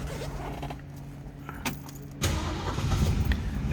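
A 1965 Ford Mustang coupe is started up close: a short cranking burst, then the engine catches and settles into a steady rumbling idle.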